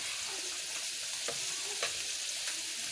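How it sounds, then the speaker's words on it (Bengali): Fish frying in hot oil gives a steady, fairly faint hiss and crackle, with a couple of sharp spatula scrapes against the pan. "এখানে আমার মাছ ভাজাটা হচ্ছে প্রায় শেষ"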